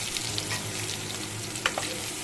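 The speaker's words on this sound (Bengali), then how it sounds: "পেঁয়াজটা আগে আমি একটু ব্রাউন করে ভেজে নেব" Chopped onion fries in oil in a pan, browning with a continuous, even sizzle close by and a few faint clicks of stirring, no voices.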